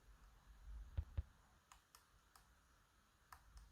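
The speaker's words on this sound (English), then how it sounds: "Much more clicky now." Lock pick clicking against the pins of a Russwin Emhart lock, a few faint, sharp ticks scattered across a quiet background, with two slightly stronger clicks near the start and softer taps later.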